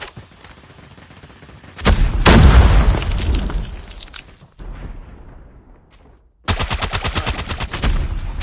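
Grenade blast in Call of Duty Mobile search and destroy, a loud close boom that decays over a couple of seconds, followed by a brief lull and then a sharp burst of rapid automatic gunfire.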